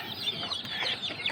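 Native chickens cluck softly and repeatedly while pecking at fish scraps, a close, busy murmur of short clucks over about a second with no talking.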